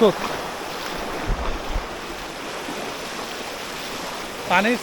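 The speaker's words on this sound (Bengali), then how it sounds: "অবস্থা দেখেন, পানির শব্দ হচ্ছে কি পরিমাণ" Floodwater rushes across the Akhaura–Agartala road in a steady, roaring wash of broadband noise, loud and close throughout, with brief voice fragments at the start and end.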